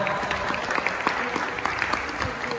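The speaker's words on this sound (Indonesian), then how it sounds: "Beri tepuk tangan." Audience applause at a pencak silat coaching clinic, a dense, steady wash of many hands clapping throughout, fairly close and busy.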